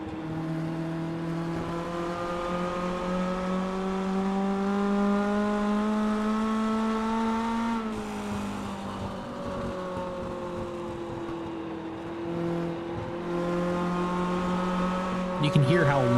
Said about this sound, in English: You can hear how long they're out of the throttle, just letting the car coast into the corner.